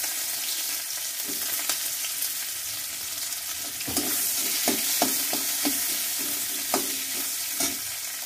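Onions sizzle and fry in oil in a wok (kadai), a steady loud hiss punctuated by scraping stirs and small crackles, with no talking.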